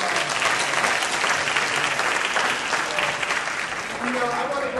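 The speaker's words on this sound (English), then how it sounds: "But Morial, give him a round of applause." Loud, continuous applause from an audience at a financial empowerment forum, with dense clapping and some crowd voices mixed in across the whole stretch.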